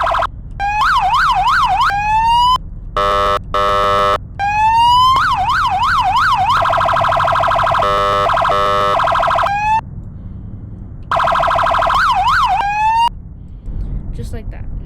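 Priority tone from a police car's lights-and-sirens setup, a loud, rapid warbling electronic siren sweeping up and down, cut by abrupt stops and switches to a steady horn-like tone, close and alone.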